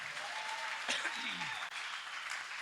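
Congregation applauding during a church sermon, a steady, fairly soft wash of clapping that continues evenly from start to finish with a brief dip near the end.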